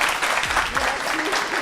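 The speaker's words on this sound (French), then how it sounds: "On applaudit encore très fort pour elle." An audience at a promotional prize-giving event in Congo claps steadily through a short stretch, with a voice sounding faintly beneath the applause.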